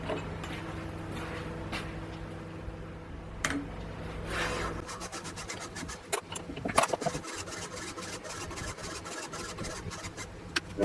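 Machine-shop work on a homemade lathe: a steady motor whir and rubbing for a few seconds while drilling metal, then a run of quick metallic ticks and scrapes with scattered sharper knocks while tapping an M6 thread.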